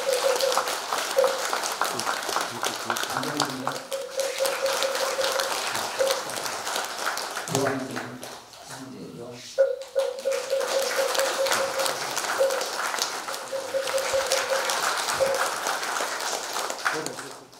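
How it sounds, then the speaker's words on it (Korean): Audience applause at a Korean Buddhist Taego Order ordination rank conferral ceremony, broadband clapping swelling across most of the span with a short dip midway, mixed with a steady tonal hum and occasional voices underneath. "박수 부탁드리겠습니다."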